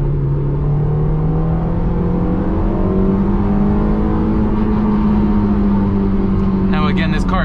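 A stock Honda S2000 lightweight sports car drives along, its engine giving a steady, loud drone with a slowly rising pitch, joined near the end by wind buffeting.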